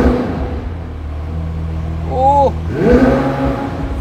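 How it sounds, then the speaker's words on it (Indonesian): A McLaren 765LT engine idles with a steady low rumble, then blips upward in a quick rev and settles, rising again toward the end, heard up close. "sekarang kita dengerin suara mesinnya"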